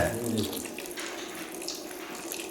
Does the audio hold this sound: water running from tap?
yes